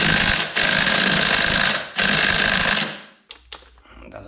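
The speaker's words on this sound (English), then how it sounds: "my impact wrench does not want to get it unbolted" Impact wrench hammering at a half axle bolt on a 2015 Mercedes-Benz C450 AMG, a loud, close, continuous rattling burst for about three seconds with a brief break, then stopping into a few scattered clanks.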